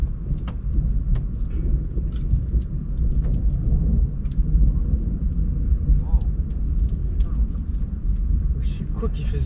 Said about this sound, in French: c'est de la grêle ça, non?